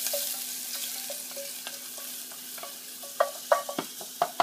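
Garlic frying in a pan until slightly burnt, a soft continuous sizzle with faint spoon scrapes and a few sharper clinks near the end.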